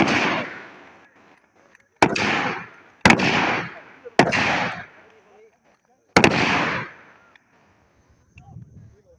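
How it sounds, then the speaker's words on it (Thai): Five sharp, loud cracks ring out at uneven intervals, each trailing off in a brief echo, with faint background sounds between them. "เสียงปืน"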